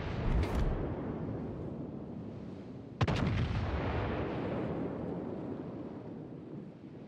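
Naval artillery fires at an enemy warship in a video game: two sharp, loud gun blasts a few seconds apart over a constant heavy battle rumble, with no voices.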